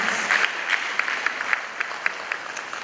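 An audience at a Ghanaian Supreme Court 150th anniversary ceremony gives a round of applause. Dense, steady clapping with some sharper individual claps stands out throughout.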